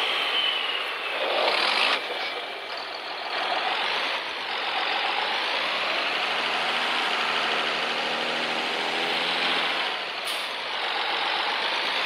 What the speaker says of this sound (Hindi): ये जोंगे वाला ट्रैक्टर भी इस सीडर के साथ बहुत अंडर पावर होता है